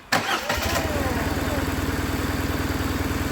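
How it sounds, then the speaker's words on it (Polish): A motorcycle engine under rebuild cranks and catches after a brief starter whir, then settles into a steady, rhythmic idle, close and clear. "uruchamiam silnik."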